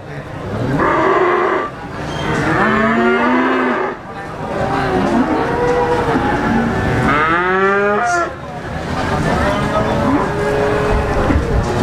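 Cattle at a livestock market in Blitar, Indonesia, where Limousin bulls are being traded, moo repeatedly in loud, drawn-out calls from several animals nearby, with people talking in the background.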